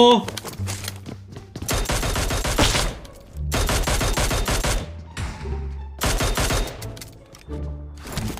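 Rapid bursts of automatic gunfire in the video game PUBG, several loud volleys separated by short pauses, with a voice talking between them.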